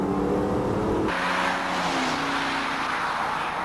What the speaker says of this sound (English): Then try some upshifts at 3/4 throttle to see if the clutches and band are in normal condition.